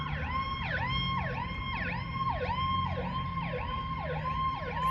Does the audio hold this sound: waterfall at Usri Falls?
no